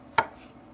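A knife makes a single sharp chop through filet mignon on a cutting board, close and brief, with quiet room sound around it.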